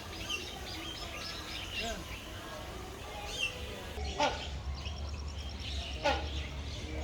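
Birds calling and chirping in a large walk-through aviary at Taman Mini park in Jakarta, with scattered short calls and a few sharper squawks, faint and fairly distant over a low steady background murmur.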